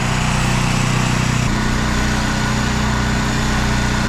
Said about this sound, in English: Fire it up the hydraulic pump.